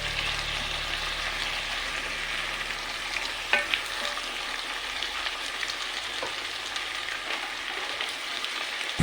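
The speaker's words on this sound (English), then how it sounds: "Added my tomatoes and stir." Tomatoes frying in a pot for githeri with potatoes, a dense continuous sizzle with occasional spoon knocks and scrapes against the pot, steady and close throughout.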